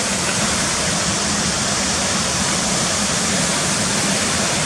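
A waterfall roars at Cotter Force, a dense, constant wash of broadband rushing water with no breaks, loud and close and filling the whole scene.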